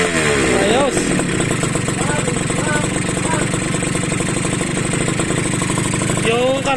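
A motorcycle engine idles steadily and close up during a carburetor check on a restoration project, with a dense continuous rumble and a few faint blips of revving throughout.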